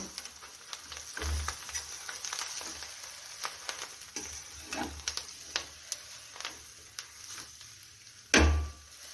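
Fenugreek greens (harbhara bhaji) stirred in a hot pan give a faint, steady frying sizzle with soft scraping, and two sharp, louder clatters of utensil against the pan, one early and one near the end.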